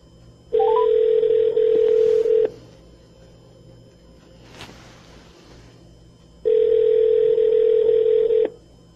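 A telephone call connects with two long, steady ringback tones about two seconds each, separated by a quiet pause, loud and clear with no talking.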